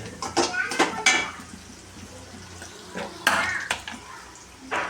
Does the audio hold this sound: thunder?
no